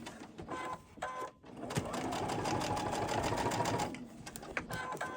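Sewing machine stitching a fabric cover for a pattern weight, a steady mechanical whir running for several seconds, bracketed by short bursts and pauses where the fabric is shifted.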